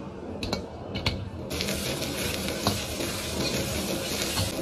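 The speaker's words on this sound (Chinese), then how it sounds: "现在把葱姜蒜下锅，炒出香味儿" Scallion, ginger and garlic stir-frying in a hot wok, a steady close sizzle with scraping stir strokes and a few sharp clinks of the spatula, no talking.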